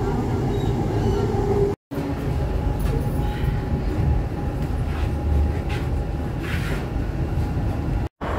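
A metro train at Jalahalli station rumbles loud and steady from inside the carriage, with broadband rolling noise and a faint high tone carried through.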